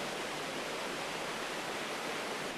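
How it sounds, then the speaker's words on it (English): Steady broadband rush of water pouring over the weir of the main hydro-electric scheme on the Isle of Eigg, a continuous even roar with no pauses and no voices. "Behind me is the weir for our principal hydro"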